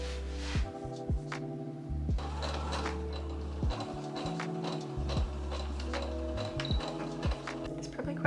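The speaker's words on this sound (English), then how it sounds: "I just sewed the strap through the stitching lines I already had for the elastic" A sewing machine motor whirs steadily while stitching a strap onto a shirred summer dress, with its running pitch stepping up and down in short bursts and brief pauses, close and alone.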